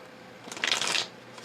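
A short riffle of playing cards being shuffled, a quick papery flutter lasting under a second, close by and unaccompanied by speech.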